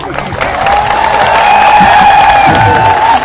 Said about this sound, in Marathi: शिक्षक आंदोलकांनी टाळ्यांचा कडकडाट करत आंदोलन मागे घेतलं